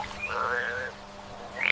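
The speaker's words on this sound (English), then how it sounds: "Ribbit, ribbit, ribbit, ribbit!" Frogs croak in a children's nursery rhyme about five little frogs jumping, a short burst of croaks sounding fairly close, ending in a quick rising rattle.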